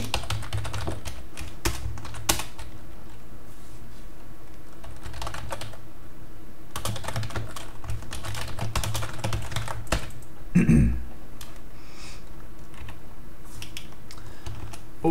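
Code typed on a computer keyboard in rapid, uneven bursts of close key clicks, with short pauses between runs and one louder thump near the end.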